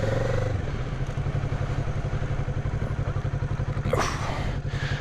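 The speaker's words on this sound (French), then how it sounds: "On va tester le freinage un peu en arrivant au niveau du stop" A Kawasaki Z650 motorcycle slowing for a stop, its engine throbbing steadily at low revs with a loud, close, rhythmic chug and a brief scraping rustle partway through.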